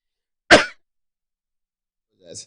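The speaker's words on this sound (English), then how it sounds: "was trying to sneeze, sorry." A single sharp sneeze bursts out, followed after a pause by a short faint vocal sound.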